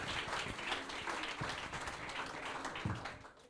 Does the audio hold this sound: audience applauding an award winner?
yes